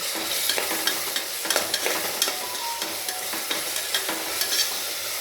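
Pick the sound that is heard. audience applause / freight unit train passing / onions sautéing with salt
onions sautéing with salt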